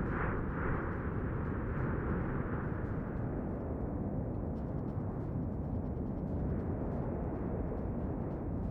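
World of Warships naval artillery rumbles as a steady deep roar of heavy guns and distant blasts, continuous and fairly loud with no talking.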